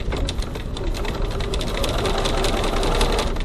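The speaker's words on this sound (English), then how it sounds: "I'm back stitching to lock my stitches." Sewing machine back stitching a leather wallet panel, a steady rapid mechanical chatter running without pause, close and fairly loud with no talk.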